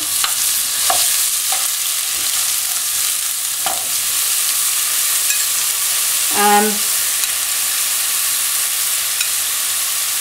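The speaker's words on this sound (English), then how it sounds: "when the oil gets hot, we're going to add about 50 grams of onions" Onions frying in hot oil give a steady loud sizzle, with a few stirring knocks and a short scraping rattle in the pan.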